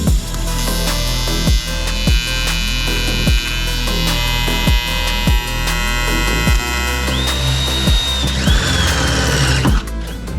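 Drilling out the tabs on a C8 Corvette oil tank. A power drill whines in a steady run of short, even bursts with sharp clicks between them, and a brief higher squeal rises near the end.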